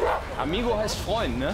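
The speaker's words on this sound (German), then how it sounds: "Das ist ein Hund." A police dog gives a few short, yelping barks close by while someone talks over it in German.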